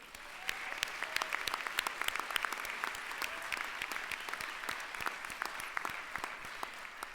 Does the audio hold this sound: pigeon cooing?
no